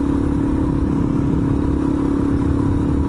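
A Suzuki DRZ400 motorcycle being ridden, its engine droning steadily and loud throughout with a constant rushing wind-like noise; no clear gear-shift break is evident.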